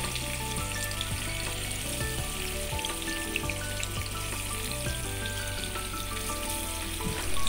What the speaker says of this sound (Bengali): আমি ফ্রাই প্যানে তেল দিয়ে দিয়েছিলাম অনেক আগেই, গরম হয়ে গিয়েছে। আর মাছটাকে আমি একদম হালকা ভাজা দিব